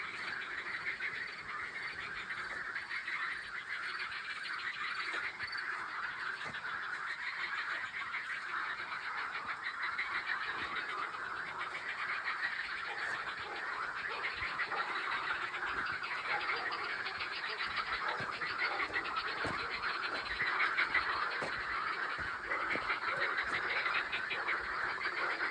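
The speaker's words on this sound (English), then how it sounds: "There's a pond up front. All the frogs are chirping." A dense chorus of frogs chirps steadily at a pond beside an opening from the woods on a rural Romanian trail, a continuous layered trill with no pauses.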